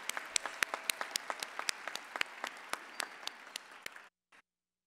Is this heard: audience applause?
yes